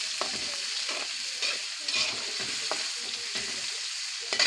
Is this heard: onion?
yes